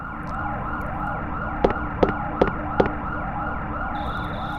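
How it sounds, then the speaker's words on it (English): Sampled police sirens wail in the distance as background music in the video game EarthBound, a steady repeating siren sweep with a few short, sharp clicks landing in quick succession partway through. "The background music consists only of the sampled sound of crickets and police sirens in the"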